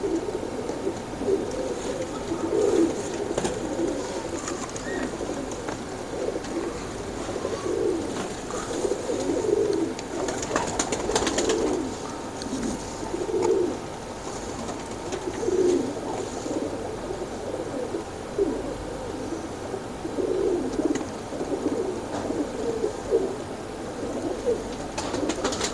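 A pair of royal teddy pigeons coo in low, rounded bursts that repeat every couple of seconds over a steady background hum, with no voices.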